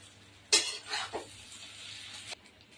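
A utensil stirs egg vermicelli in a pan, a couple of quick close scraping, clattering strokes over about two seconds, fairly faint against a quiet background hum.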